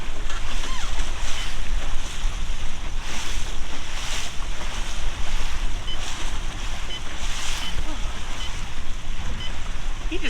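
Motorboat running at about 20 mph on Carlyle Lake, its hull slapping the water amid steady engine drone, spray and wind buffeting the microphone, continuous and close.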